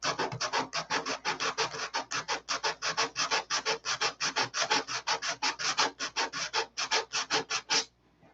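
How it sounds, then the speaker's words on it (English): Canopy of a model stunt plane being sanded until frosty, a steady run of about forty close, raspy back-and-forth strokes in an even rhythm before stopping. "even the canopy gets sanded. Gets sanded till it's frosty."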